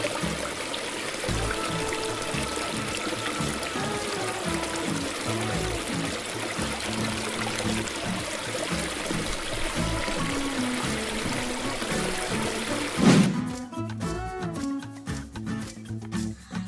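Tap water runs in a steady, close stream while hands are washed with soap, continuing unbroken for most of the clip before the sound shifts near the end.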